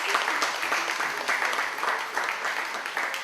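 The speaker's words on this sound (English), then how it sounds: "I think it is fitting that you should give these two professors a strong round of applause" Sustained applause from a symposium audience for two professors, a dense, even patter of many hands clapping throughout.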